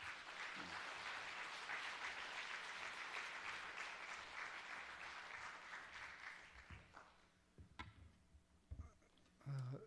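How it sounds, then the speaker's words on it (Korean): A church congregation at a Wednesday evening service applauds steadily, then the clapping thins out into a few scattered claps and small sounds near the end. "박수로 모시겠습니다."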